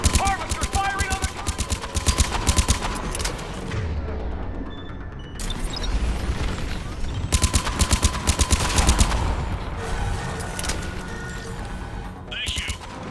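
An enemy Harvester opens fire in the video game Mass Effect 3, with heavy, rapid machine-gun-like bursts and booming impacts that run almost continuously, with a brief lull, alongside shouted voices.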